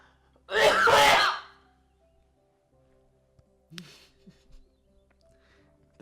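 One loud, close sneeze bursts out sharply in a quiet room, followed by faint rustling and small noises.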